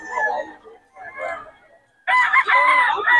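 A quality fighting rooster at a Bocaue poultry farm crows nearby, loud and clear: a couple of rough, broken calls followed by a full strained crow.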